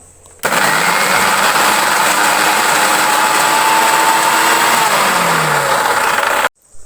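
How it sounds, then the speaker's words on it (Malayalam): A mixer grinder grinds coconut paste for Kerala aviyal, a loud, steady motor whine with a grinding rattle that starts abruptly, runs continuously for about six seconds, then cuts off. "ഇതെല്ലാമായിട്ട് കുറച്ചൊന്ന് അരവ് കൂട്ടി അരയ്ക്കണം"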